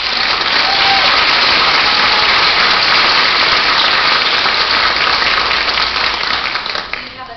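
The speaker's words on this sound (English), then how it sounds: "join me in one last round of applause for these STEM winners" At a school board meeting, the audience applauds STEM award-winning students with a loud, dense, rain-like burst of clapping that holds steady and then fades away at the end.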